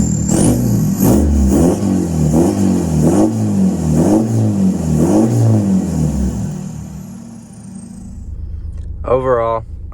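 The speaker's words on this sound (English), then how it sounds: "let's get some revs for you." A Mk6 TDI diesel car engine with EGR delete and new turbo revs repeatedly in rhythmic surges, rising and falling about five times, loud and close, then settles to idle before a brief voice.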